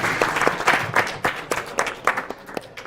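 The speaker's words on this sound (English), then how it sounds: "Give her a big round of applause." An audience at a breakout session claps steadily, a short burst of applause with dense, overlapping hand claps at moderate distance.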